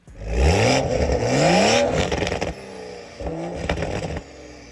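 A Toyota Supra GR MK5 3.0 engine with a catalyst downpipe exhaust revs up loudly with rising and falling pitch, crackles briefly, then revs again before dropping to idle.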